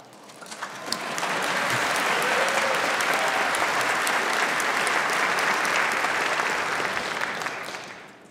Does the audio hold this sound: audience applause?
yes